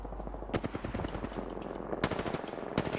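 Automatic gunfire from weapons in the battle-royale video game Apex Legends, several loud sharp bursts spaced across a few seconds over steady game background noise.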